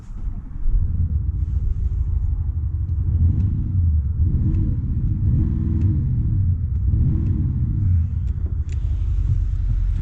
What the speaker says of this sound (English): This is a V8 turbo, a diesel V8, and well, it sounds amazing.